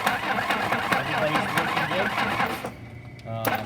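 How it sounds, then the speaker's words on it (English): The engine of a Willys Jeep CJ3B cranks over with the valve cover off, a steady, close mechanical churning that runs for several seconds before dropping away, with a voice audible over it. "And go ahead, crank it."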